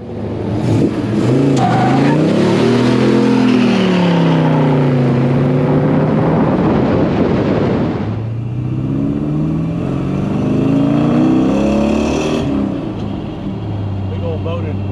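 A 1962 Pontiac Grand Prix with a Tri-Power big-block engine and four-speed revs repeatedly, the loud nearby engine note rising and falling in long sweeps, then settling to a rumbling idle.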